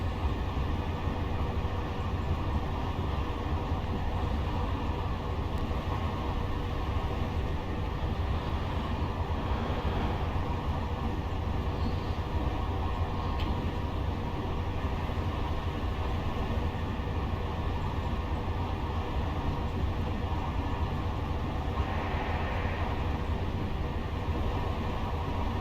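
A Class 57 diesel locomotive in Train Simulator Classic, running between Doncaster and York, gives a steady, loud rumbling drone with continuous rail noise that stays constant throughout, with no talking.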